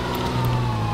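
Police siren in the video game GTA Episodes from Liberty City, a loud, steady electronic wail held close and alone for a brief moment.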